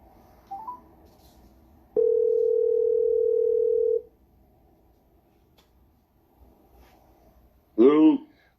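A steady telephone dial tone plays loud and close for about two seconds during a call-in show dialing out to a caller, followed later by a short warbling tone, with quiet speech around it.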